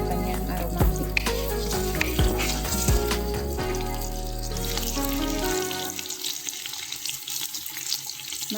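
Onions for lamb biryani frying in a pan, a steady sizzling hiss with sharp clinks of a utensil against the pan in the first half, then the sizzle settles into a quieter, even crackle.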